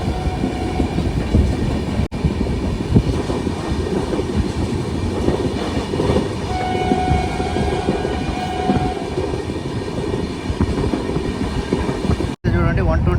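A Tirupati to Vijayawada express train runs at speed, about 128 km/h, on the rails. A loud, continuous rumble and rattle of the carriages holds steady throughout, with two brief dropouts.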